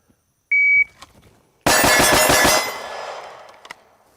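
Shot timer buzzer gives one short, clean high beep, followed about a second later by a rapid burst of several gunshots, loud and close, trailing off into a fading echo with a faint click near the end.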